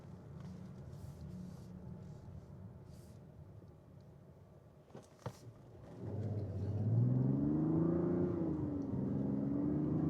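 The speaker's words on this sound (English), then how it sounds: "The inline six in this car is pretty impressive." A Mazda CX-70 SUV's inline-six engine idles quietly, then revs up into a deeper, louder rumble that rises and holds, with a couple of clicks before it.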